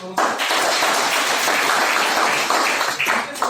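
Audience at an on-stage business meeting in Delhi applauding, a dense, steady burst of many hands clapping that starts abruptly and carries loud and unbroken throughout.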